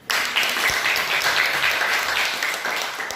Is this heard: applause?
yes